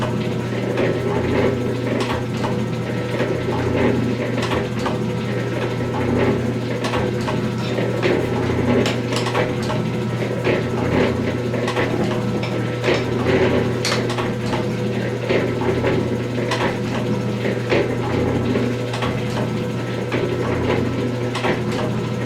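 An 1889 G&E metal shaper runs steadily, cutting chips from a workpiece with a constant low mechanical hum and a regular ticking clatter of strokes and gears, close and continuous.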